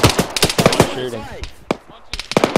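Gunfire in the military video game Arma 3, a rapid string of sharp close shots in short bursts, with a brief lull, then more shots and faint voices underneath.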